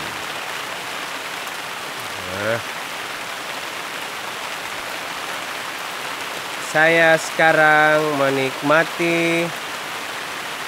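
Steady rain falls across a garden plantation on an afternoon, a dense even hiss of drops on leaves and ground throughout, with someone speaking briefly over it twice.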